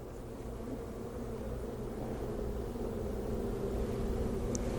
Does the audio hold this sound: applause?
no